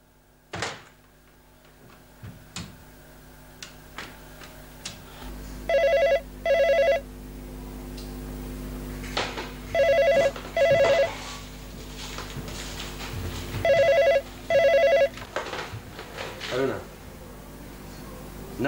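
A telephone rings in a tense indoor scene from an Omani TV drama, three pairs of sharp electronic bursts repeating at steady intervals, loud and close, with people talking and moving around in the background.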